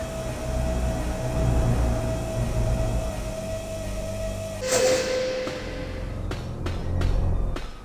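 Elevator running in the survival-horror game Dino Crisis, a steady low mechanical hum with a sustained tone that shifts pitch midway, followed by a few sharp clanks as it moves and stops.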